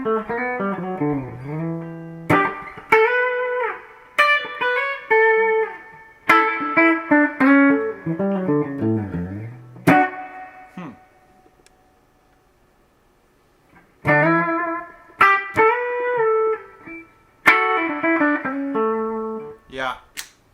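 Guitar chords ring through a Fender Silverface Twin amplifier with its reverb engaged, each strum trailing a spacious wash that decays in the gaps, with a long pause midway.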